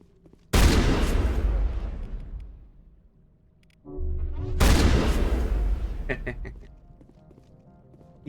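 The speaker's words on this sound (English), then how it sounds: "These shotguns are really good at close range" Shotgun blasts in the Mass Effect video game: two loud, heavy shots roughly four seconds apart, each with a booming body and a long rumbling tail, close and forceful.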